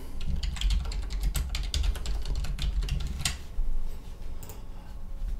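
Rapid, irregular keystrokes on a computer keyboard as a short message is typed, close and fairly quiet, with a pause partway through before a few more taps.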